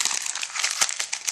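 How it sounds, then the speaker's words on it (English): Plain white computer paper is crumpled into a ball by hand, a close, loud, crackling crinkle with sharp snaps. "just kind of like paper, crumple it up,"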